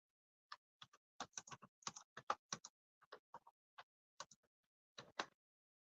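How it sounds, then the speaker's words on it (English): Fingers type on a computer keyboard in irregular bursts of crisp clicks with short pauses between them, quiet and close, with no one talking. "Sorry, I'm typing."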